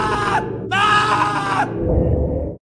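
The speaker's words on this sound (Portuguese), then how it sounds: "se você deixar James parado por alguns segundos, ele grita e imita o movimento que Leatherface faz" James, the protagonist of the video game Silent Hill 2, lets out two loud, strained screams in quick succession, followed by a lower rumbling sound that fades to silence.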